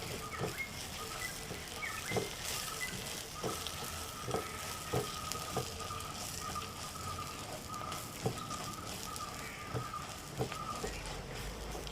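Dried red chillies fry in hot oil with garlic and shallots, a steady close sizzle broken by occasional soft clicks and scrapes of stirring.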